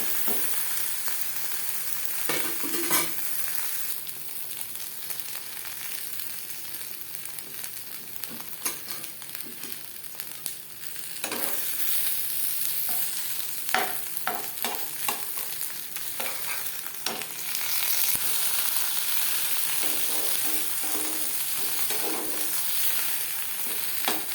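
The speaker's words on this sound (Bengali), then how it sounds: "এক পিঠ ভাজা হয়ে গেছে অপর পিঠ" Jackfruit paturi sizzles steadily in a frying pan, a continuous oily crackle with scattered scraping stirs and clicks, growing a little louder partway through as the parcels are flipped; no voices.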